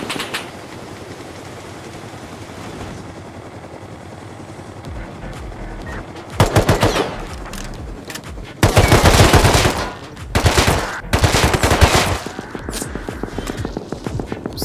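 Rust video game gunfire in several bursts of rapid automatic shots, loud and close, over a quieter mechanical hum between volleys.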